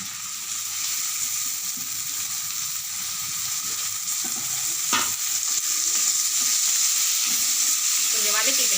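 Onions and tomatoes sautéing with curry leaves in a pan give a continuous close sizzle, with occasional scraping and a sharp utensil clack near the middle, no voices.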